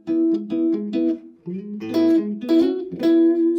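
Fingerpicked guitar riff in a major pentatonic shape, bright plucked notes in quick phrases with short pauses, close and clear with no talking.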